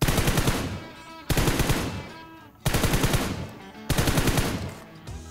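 Automatic gunfire in PUBG Mobile comes in four loud, rapid bursts of roughly a second each, with short pauses between them.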